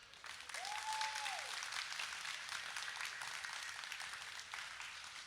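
A conference audience at an osu! community event gives a sustained round of applause and clapping, a dense steady wash of hands lasting the whole stretch at moderate volume.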